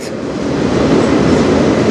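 A train passes close by on the Strathroy Subdivision, a loud, steady roar of rolling cars and wheels that swells slightly and holds throughout the short stretch.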